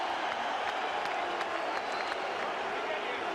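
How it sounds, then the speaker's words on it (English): Crowd noise and applause at a heavyweight boxing match between Lennox Lewis and Vitali Klitschko after a controversial finish, a dense steady roar of clapping and voices filling the arena throughout. "the crowd are on Klitschko's side."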